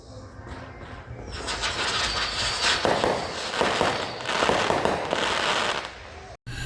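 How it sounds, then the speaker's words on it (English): Fireworks go off in a dense, continuous barrage of crackling pops and bangs at moderate distance, sustained for several seconds before cutting off abruptly. "This just in, more fireworks."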